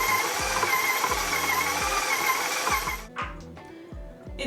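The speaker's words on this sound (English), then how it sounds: "I'm gonna knead it a little bit more, a higher speed, about a medium speed, which in the mixer is like around 6" Stand mixer with a dough hook kneading homemade pizza dough at medium speed (setting 6), a loud steady motor whir with rhythmic thumping, dropping briefly near the end before resuming.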